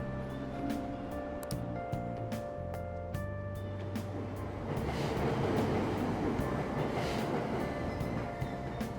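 Subway train pulling away from a platform in Persona 5 Royal, with a low rising motor hum, clanking wheels and steady rumble building louder as it departs, no talk heard.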